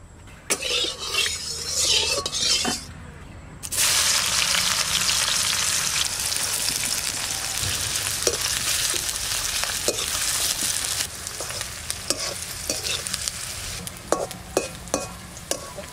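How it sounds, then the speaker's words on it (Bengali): Onions frying steadily in hot oil in a wok-style kadai for mutton layer biryani, a dense continuous sizzle with a brief drop early on and occasional clinks of a utensil stirring near the end. "বেরেস্তাটা ভাজবো।"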